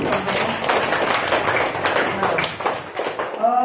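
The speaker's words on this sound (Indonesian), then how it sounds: "Kita berikan aplaus dulu untuk" Applause for a presenter after a teaching session at a university, a room of people clapping steadily and fairly close, with voices mixed in.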